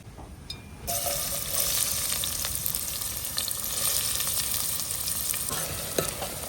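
Onions frying in hot oil in a home kitchen, cooked for a palva fish curry: a steady broadband sizzle that jumps up after the first second, with scattered clicks of stirring throughout and no talk.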